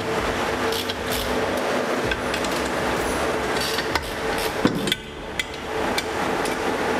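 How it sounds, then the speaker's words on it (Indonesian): A 17 mm socket wrench loosens bolts on a manual car transmission, with sharp metallic clicks and knocks over a steady workshop background, close and without talk. "Kunci nomor 17 sok dilepas dulu."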